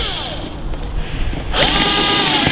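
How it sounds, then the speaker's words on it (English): A power drill whirs through a hole for a spa cover locking clip, the motor winding down, pausing, then spinning back up loud and close. "drill a hole through each of the"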